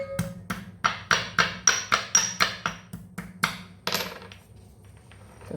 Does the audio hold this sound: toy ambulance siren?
no